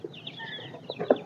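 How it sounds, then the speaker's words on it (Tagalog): Newly arrived broiler chicks peep in a cardboard box, a scatter of high, thin chirps overlapping at close range, ending with a slightly louder burst. "andito na yung ating mga sisiw"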